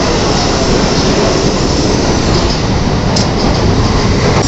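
Shinkansen Hikari 511 train arriving at Kyoto Station, bound for Okayama, a loud, sustained roar of the train rolling in close by, with faint squeals over the rumble.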